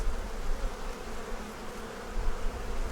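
Honeybees buzzing at a five-frame hive that has lost its queen, a soft, steady hum close by with no voices.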